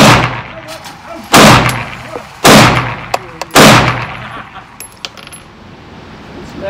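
Glock 48 pistol firing Fort Scott Munitions 80 grain rounds: three loud, close shots about a second apart, each with a sharp crack and a short echo. Faint clinks of ejected brass and handling noises follow.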